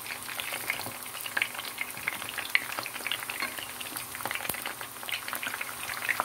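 Eggplant pieces fry in oil in a pan beside meat, giving a steady close crackling sizzle with small pops and scattered taps as they are stirred and turned.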